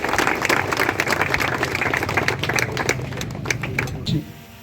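A crowd claps warmly for the winners at a prize ceremony held by a district police chief, dense and continuous applause that fades out abruptly just before the end.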